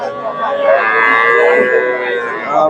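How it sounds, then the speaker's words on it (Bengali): A crossbred dairy cow lowing loudly and continuously, a long drawn-out moo with strong harmonics, close by. "এখানে একটা ক্রসের গাভি দেখতেছি"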